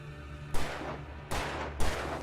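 Three sharp, loud gunshots ring out in Alan Wake Remastered, evenly spaced and each trailing into a short echoing decay over a low steady hum.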